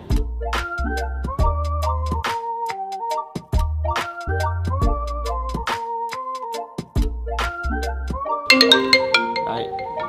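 A smartphone rings with an incoming call during an Apple Watch eSIM test on a Viettel 4G line, a loud melodic ringtone that loops several times and sounds alone, with no voices.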